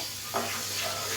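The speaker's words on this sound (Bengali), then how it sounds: "চালটা ভাজা হয়ে গেছে" A steady sizzle and crackle of rice and lentils frying in a hot pan for bhuna khichuri, with a brief scrape of stirring.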